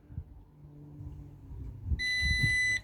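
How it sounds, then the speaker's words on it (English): A single sharp electronic beep from a Nokta Makro Pulsedive metal-detecting pinpointer sounds for under a second near the end, after low handling noise and quiet rustling. "hold it in till we hear a beep"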